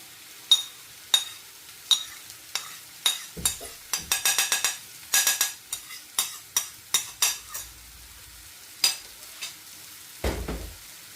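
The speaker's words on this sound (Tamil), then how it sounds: "ஒரு அஞ்சு நிமிஷம் இப்படியே மிக்ஸ் பண்ணி கொண்டுருங்க முட்டை நல்லா இதோட வறுபட்டு வந்துடும்" A metal spatula stirs and chops egg into string hoppers frying in a pan for egg idiyappam kothu, producing a series of sharp clinks and scrapes. The strikes come in an uneven rhythm, some in quick flurries, over a faint sizzle.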